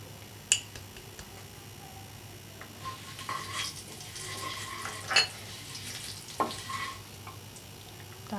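A spiced potato mixture for Potato 65 is stirred by hand in a bowl, with soft scraping and mixing under a quiet background and a few sharp clicks and knocks at irregular moments.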